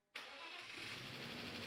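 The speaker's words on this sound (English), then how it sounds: "because we are starting the engine." A BMW engine cranks and catches abruptly, then settles into a steady, fairly close idle with a mid-range rumble and a hissy upper layer.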